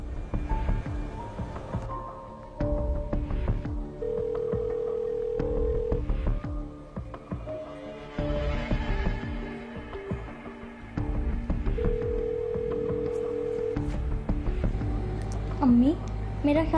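A telephone line rings back with two long, steady tones spaced several seconds apart, while people talk over and around them.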